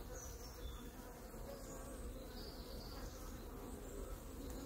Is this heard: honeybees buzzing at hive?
yes